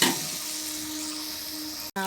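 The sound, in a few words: water added to sizzling mutton curry in the pot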